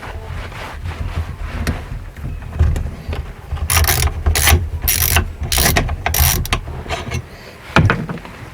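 A ratchet wrench works on the wheel of a custom Honda CB360T motorcycle in a shed, loud close bursts of rapid clicking separated by pauses and handling noise.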